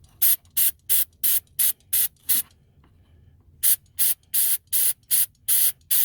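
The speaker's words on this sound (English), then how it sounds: "Spray it in there." Throttle body cleaner hisses from an aerosol can onto an Acura transmission shift solenoid in short, even bursts, seven quick sprays, a brief pause, then eight more, loud and close.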